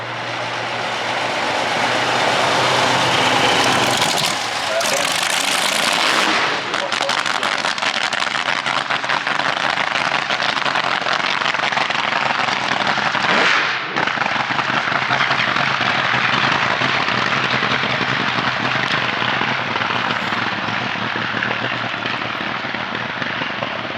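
Top-fuel style dragster at a Bangers & Mash drag racing meet at Sydney Dragway, engine loud and continuous as it cackles down the return road, a steady rumbling roar filling the whole stretch with a brief dip midway.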